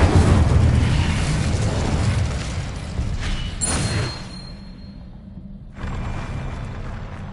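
A Confringo spell from the Hogwarts Legacy video game erupts in a heavy, booming explosion with a crackling burst, dying away over a few seconds before another rumbling impact rises at the end.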